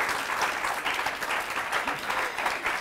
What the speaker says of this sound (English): Oh my, you better clap for me.